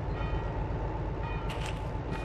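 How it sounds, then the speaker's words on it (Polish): Idling locomotive in the Derail Valley train-simulator game, a steady low rumble with faint mechanical creaks and brief hissing bursts near the end, with no voices. "Ta lokomotywa była już odpalona."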